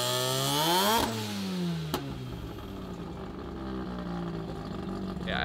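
A Mazda RX-8 rotary engine revs hard with a raspy exhaust note rising in pitch, then drops off after a sharp pop and idles down to a lower rumble.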